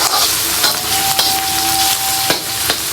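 Onion and garlic sauté in a pan for pancit palabok, a loud, continuous close sizzle with a few sharp stirring scrapes and a brief metallic ring.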